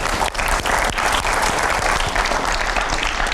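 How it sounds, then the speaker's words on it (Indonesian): A studio audience at a journalism talk session gives loud, close, continuous applause, many hands clapping in a dense, steady burst for a few seconds. "Kita kasih tepuk tangan buat kamu."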